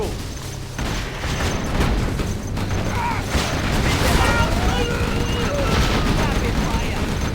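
A Gatling tank firing in C&C Generals, dense continuous rapid gunfire and booms in a busy battle mix, with unit voice lines and radio chatter over it.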